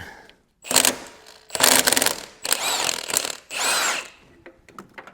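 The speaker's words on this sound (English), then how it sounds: "We could probably use our power tool here to do that." Four short, loud bursts of a whirring power tool loosening a bolt close by on a 2006-2011 Honda Civic sedan engine mount, separated by brief pauses and small mechanical clicks.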